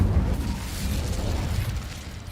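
Incendio fire spell cast in Hogwarts Legacy, a loud low burst and roar that rumbles steadily through the short clip with no talk over it.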